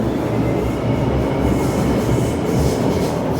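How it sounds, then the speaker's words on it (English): A train rumbles steadily past at close range through Sheung Wan Station, a continuous low roar with faint rail squeal and clatter throughout. "Now you can see the train driving here."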